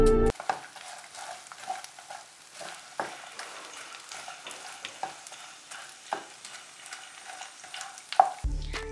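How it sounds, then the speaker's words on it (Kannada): Edible gum fries in ghee while being stirred, a soft continuous sizzle broken by repeated scraping and knocking of a spoon against the pan at a loose, regular pace, close up with no voices. "ಈಗ ಅದಕ್ಕೆ 100 ಗ್ರಾಮ್ ಅಷ್ಟು ಅಂಟು ಹಾಕ್ಬಿಟ್ಟು ತುಪ್ಪದಲ್ಲಿ ಚೆನ್ನಾಗಿ ಫ್ರೈ ಮಾಡ್ಕೋಬೇಕು"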